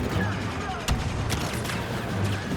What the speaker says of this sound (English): Firing target! Grenade ready!